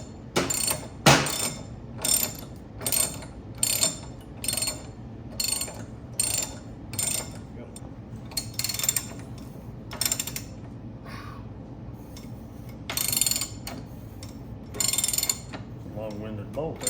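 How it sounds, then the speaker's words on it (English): A bicycle pivot bar being spun by hand, giving close, rhythmic bursts of ratcheting mechanical clicks with short pauses between them, and a few louder clusters near the end. "Let's spin this pivot bar."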